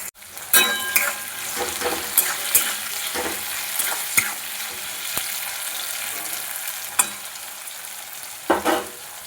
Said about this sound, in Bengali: পেঁয়াজটা আমার মোটামুটি ভাজা হয়ে গেছে